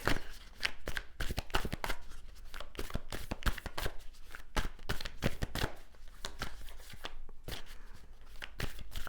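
Oracle cards shuffled by hand, giving a steady run of quick, crisp riffling slaps close by with no pause, fairly soft overall.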